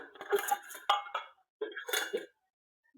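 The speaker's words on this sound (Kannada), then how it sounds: "ಈಗ ಮೈದಾ ಹಿಟ್ಟ ಕಲ್ಸಾಕತ್ತೀನಿ." Maida flour dough being mixed for Mysore bhaji clinks and scrapes against a metal vessel in short bursts, close up, with quiet pauses between them.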